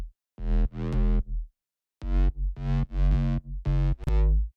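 Main synth bass built in the Silent synthesizer for a track: a gap, then a run of distinct sustained bass notes with sharp starts and short silences between them, loud and alone.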